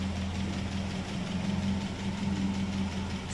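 Citroën Traction 11BL modified with an ID19 engine idling: a steady, even mid-low hum with a constant drone, running close by.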